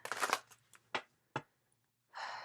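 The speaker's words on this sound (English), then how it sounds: "So we are shuffling for the Death card" Tarot cards being shuffled by hand, a few quiet riffling bursts and taps separated by short silences, then a longer soft swish at the end.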